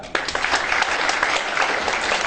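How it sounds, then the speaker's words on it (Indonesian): Audience applause at a seminar, a dense burst of many hands clapping that starts abruptly and continues steadily up close. "Berikan aplaus pada Anda."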